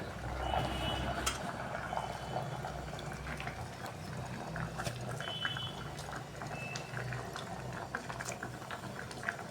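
Water bubbles and hisses in a steady, rolling boil in a pot for several seconds, with small pops and faint clinks rising over the continuous churn.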